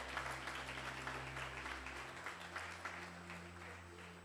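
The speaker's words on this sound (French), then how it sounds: "Applaudissez pour nous à la gloire de Dieu." A church congregation applauds with a soft, steady patter of clapping heard at a distance, while a low sustained organ or keyboard tone holds underneath and shifts pitch partway through.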